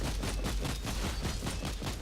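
A charged plasma cannon firing in the Warhammer 40K: Inquisitor - Martyr video game, a dense, loud rolling burst of crackling blasts and booms that sustains without pause.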